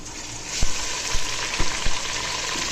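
Ginger garlic paste hits lightly browned onions in a hot pan, giving a close, steady frying sizzle with a few sharp clanks of a spoon against the pan.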